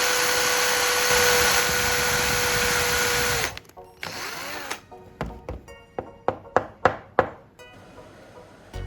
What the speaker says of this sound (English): Now, drill the mark holes carefully